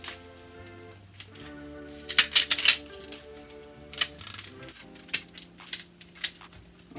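A knife chops through the ends of corn cobs on a cutting board in a home kitchen, giving a quick cluster of sharp knocks and clacks and then a few scattered taps, with quiet background music underneath.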